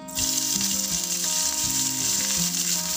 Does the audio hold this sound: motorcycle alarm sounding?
no